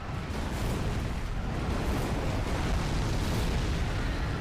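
A large blast from an enemy's big explosion attack in Dark Souls 3 rumbles on without a break, a dense, loud roar with heavy low-end weight and a steady wash of debris.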